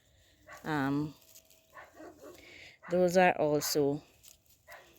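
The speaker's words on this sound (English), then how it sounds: "The dog started barking and distracted me a bit" A dog barks near a home vegetable garden where tomatoes are grown, in two close, loud bursts: a short one early, then a quick run of several barks a couple of seconds later, with quiet gaps between.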